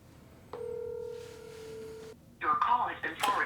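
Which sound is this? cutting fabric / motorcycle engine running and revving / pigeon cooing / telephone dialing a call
telephone dialing a call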